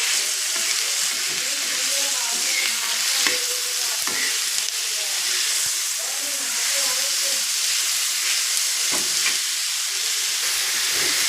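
Green tomato chutney frying in oil in a home kitchen, a steady, loud sizzle with soft stirring scrapes and occasional small pops throughout, no voices.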